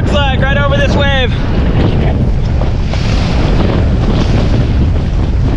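Strong wind buffets the microphone in a constant loud rush, with Hawaiian surf noise beneath and a brief voice near the start.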